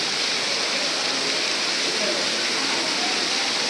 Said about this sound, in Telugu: ఫుల్ వర్షం పడుతుంది, మంచు వర్షం రెండు ఒకేసారిగా